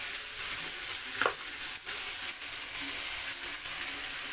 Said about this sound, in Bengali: কচু শাকটা দেওয়ার পর খুন্তির সাহায্যে এভাবে একটু ছড়িয়ে দেওয়া হলো